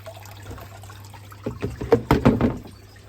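Water pumped from a drum trickles and splashes into garden beds, a soft close gurgle that starts quietly and grows into irregular splashy bursts over a few seconds.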